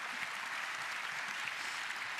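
Faint, distant applause from an audience at a panel event, a soft continuous patter of clapping with no voices over it.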